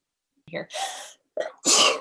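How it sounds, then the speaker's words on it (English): A person sneezes twice in quick succession, each burst preceded by a short sharp intake of breath, loud and close with brief silence between them. "Okay, hopefully I stop sneezing."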